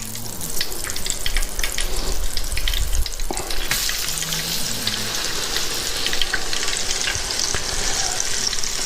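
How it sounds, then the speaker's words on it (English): Steak sears in a hot pan with a loud, crackling sizzle that surges as the meat goes in and stays busy with sputters and scraping sounds, and no voices. "So laid our steak in."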